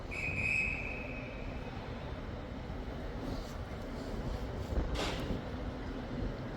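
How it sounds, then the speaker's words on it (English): Train 801218 pulls out of Newcastle station bound for Edinburgh Waverley: a brief high whistle sounds first, then a low, steady rail rumble with a soft hiss of brakes or air midway. "And departing as well is 801218 for Edinburgh Waverley only."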